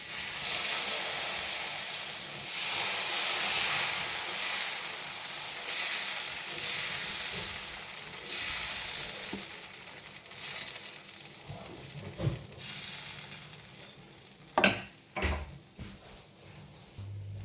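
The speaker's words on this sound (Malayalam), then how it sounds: "അങ്ങനെ ഇതിനു വേണ്ടി നമുക്ക് ദോശ തയ്യാറാക്കാം." A dosa cooking on a hot griddle gives a soft, steady hiss and sizzle that gradually fades, broken by a few brief clatters and knocks near the end.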